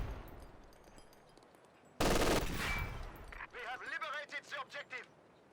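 A machine gun fires from a sandbag position in a Company of Heroes 2 battle: a loud burst of gunfire, then rapid, chattering shots, with a voice speaking in between.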